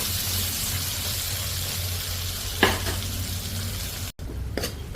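Eggplant and potato frying in oil in a wok, a steady close sizzle with a low hum beneath, broken by a couple of brief scraping stirs and a short cut near the end.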